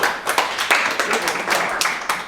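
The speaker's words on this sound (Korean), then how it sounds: "자, 성실한 성실이게 박수." Sparse clapping at a middle school graduation ceremony, separate sharp hand claps in an uneven rhythm from a small group nearby, lasting a couple of seconds.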